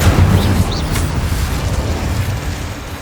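A fiery Incendio spell blast in Hogwarts Legacy, heard as a loud, dense roaring burst that fades into a sustained low rumble across the whole stretch, with a couple of faint whooshes on top.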